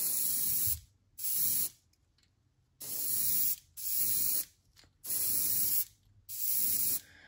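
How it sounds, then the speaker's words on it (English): Airbrush spraying a light shading mist of paint onto a crankbait fishing lure, delivered in six short bursts of close, crisp hiss separated by brief silences. "What I'm doing here is doing a light, almost like a shade mist."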